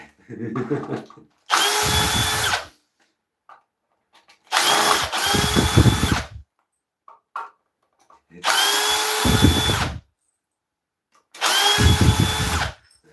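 A power drill backs screws out of a wooden lathe-turned oak bowl in four separate loud whirring bursts, each a second or two long, with faint speech in the pauses between them.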